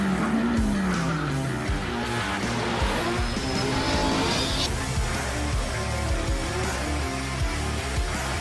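A drift car at a Formula Drift round in Utah roars at full throttle as its tires squeal and skid, a loud continuous blend of engine revving and screeching rubber with no voices over it.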